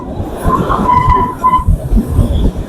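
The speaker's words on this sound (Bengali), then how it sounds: "আমরা এখন টয় ট্রেনে করে কালকা থেকে সিমলা যাচ্ছি।" Kalka–Shimla toy train rolling along its mountain route, a steady rumbling clatter of wheels and carriages heard from on board, with a faint squealing tone rising over the continuous noise.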